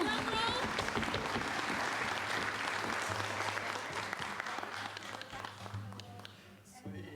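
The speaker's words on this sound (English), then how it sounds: "Can we get a round of applause?" Audience applause, a dense wash of many hands clapping that gradually thins out, with some voices mixed in underneath.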